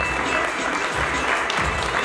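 Steady applause from a crowd at a celebration while Armenian cognac is poured into already filled glasses, the clapping continuous and fairly loud throughout.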